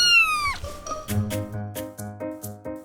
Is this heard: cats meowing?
yes